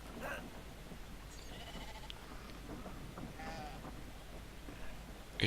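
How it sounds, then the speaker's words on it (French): Sheep bleat in a video game, Brothers: A Tale of Two Sons, with a few wavering calls rising over an ambient outdoor bed of faint rustling and game sounds; no talking. "Là, je vais aller chercher un mouton."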